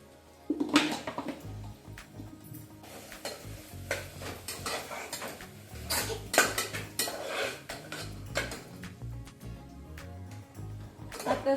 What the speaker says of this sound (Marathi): सर्व भाज्या व्यवस्थित परतलेलं आहे